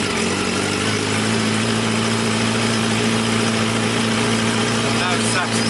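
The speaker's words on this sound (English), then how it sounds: "I'll be quiet for a second as I start the bike" A Yamaha FZ1 motorcycle engine idles steadily up close, a constant low rumbling hum with an even throb and no breaks.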